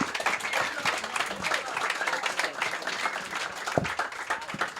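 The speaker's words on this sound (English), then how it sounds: "Give him a big round of applause." Comedy club audience applauds a guest, a dense, steady wash of clapping from the crowd lasting the whole few seconds with a faint voice underneath.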